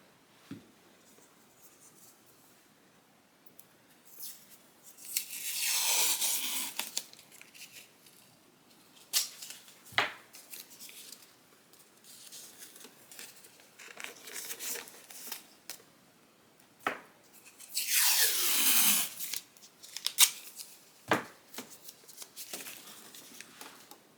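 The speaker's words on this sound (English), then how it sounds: "I'm going to put some more tape." Strips of tape tearing off a roll while an embroidery hoop is prepared for a Brother PE-800 machine, with several loud rasping rips and quieter handling sounds between them, close by and without talk.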